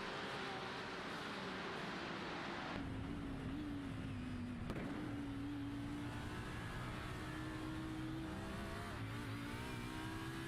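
An Audi R8 race car engine held at full throttle in a sim racing game on the Nürburgring, a steady loud whining roar with its pitch sliding and rising through gear changes and no pauses.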